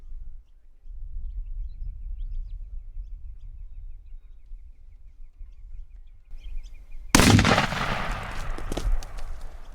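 A rifle fires a 70 grain Nosler Varmageddon bullet at about 4,000 feet per second into a gel block: one sharp, loud crack followed by a ringing, echoing tail over a quiet outdoor background.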